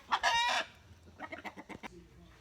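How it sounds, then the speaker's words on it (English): Chickens cluck close by: a loud squawk, then a string of short, choppy clucks tapering off. "there's the chickens"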